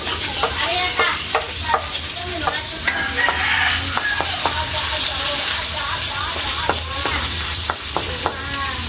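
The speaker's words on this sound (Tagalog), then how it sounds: "igisa lang natin yung sangkap, yung sibuyas" Onions sauté in a hot pan for chopsuey, a loud, dense, continuous sizzle right up close, punctuated by frequent quick scrapes of a spatula.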